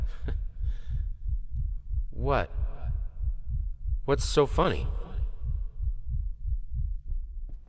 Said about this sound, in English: Again, I can hear a heartbeat.